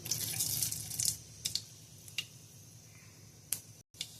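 Mustard and fenugreek seeds spluttering in hot oil, bursts of crackling hiss and scattered sharp pops that fade to sparse crackles, close and alone with no talk.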